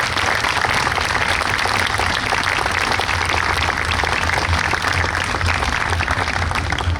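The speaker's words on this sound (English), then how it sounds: "those guys that deserve a real round of applause this afternoon" An outdoor audience at a New York State Police special operations exhibition applauds steadily, a dense, even patter of many hands clapping that continues throughout without speech.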